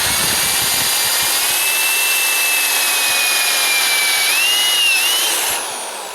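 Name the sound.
power drill drilling 3/16 inch holes in rusty metal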